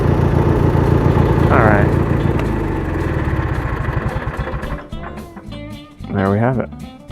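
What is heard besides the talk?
Kohler Magnum 18.5HP twin engine idling on Craftsman garden tractor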